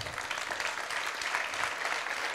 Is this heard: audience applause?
yes